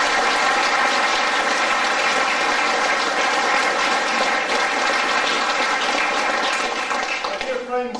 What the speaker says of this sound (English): let's give Gerard a round of applause